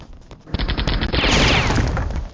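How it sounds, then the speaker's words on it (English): A rapid burst of airstrike gunfire in the strategy game World Conqueror 4 rattles loudly and densely for about two seconds, rising after a short lead-in into a sustained volley of overlapping shots. "Alright, we're gonna have to airstrike that."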